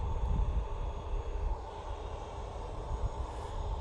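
An airplane at Manchester Airport rumbles steadily with a broad roaring engine drone and low-frequency buzz, fairly loud and continuous with no speech.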